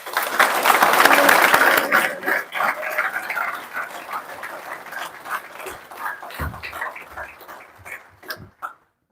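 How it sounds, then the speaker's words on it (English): Warm applause from a graduation ceremony audience, dense clapping that swells at first and then thins out gradually, with a few scattered claps near the end and a dog whimpering and barking briefly. "Please give him a warm and hearty round of applause"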